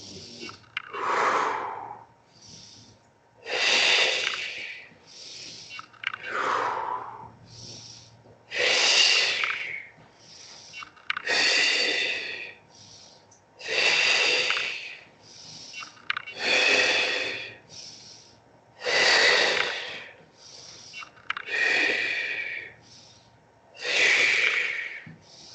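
Close, loud breaths in a Pilates exercise, about a dozen forceful inhale-exhale cycles in a steady, regular rhythm, each a rushing airy burst separated by short pauses, with no words spoken.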